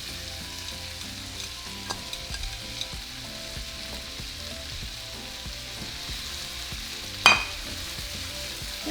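Quartered white onion, roma tomatoes, jalapeño and minced garlic sizzle steadily in melted butter in a pan, with soft scattered stirring clicks and a sharp clatter near the end.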